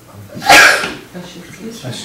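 A single sharp sneeze bursts out in a meeting room, loud and close, followed by quiet murmuring and faint room talk.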